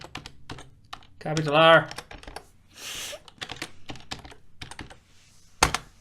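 Computer keyboard typing in bursts of quick, close keystrokes, scattered between short spoken phrases from a person, with a louder key thump near the end.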